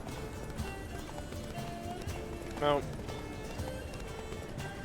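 Roach, the horse in Witcher 3, gallops along as a steady, rhythmic clatter of hooves under the game's ambient sound and music. A brief neigh rises midway, and someone speaks over the action.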